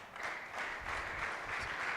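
A church audience claps briefly and quietly, a soft, dense patter of many hands lasting about two seconds.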